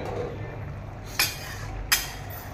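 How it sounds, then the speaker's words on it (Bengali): A metal lid lifted off a cooking pot of simmering shukto gives two brief, light clinks about a second apart over a steady background hiss. "এবার আমি ঢাকাটা খুলে দিলাম।"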